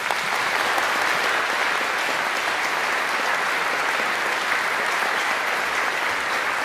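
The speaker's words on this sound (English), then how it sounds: "Please, one more round of applause for our wonderful cellists, Ethan, Flora and Ryan" Sustained audience applause for three cellists at the end of a classical music masterclass with the Melbourne Symphony Orchestra, a dense, steady wash of clapping from a large crowd with no pauses, no talk over it.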